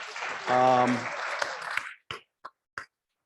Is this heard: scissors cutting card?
no